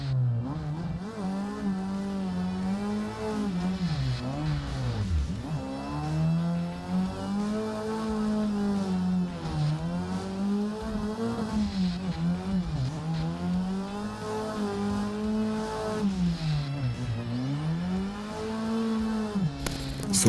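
Continuous engine revving from a racing video game's drift car runs loud and unbroken, pitch swinging up and down with repeated throttle blips and dips as it slides through a chase run, with no talking.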